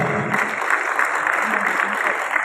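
Audience at an MGI leadership recognition event breaks into dense, sustained clapping, a steady wash of many hands at close-to-mid distance with a voice faintly over it.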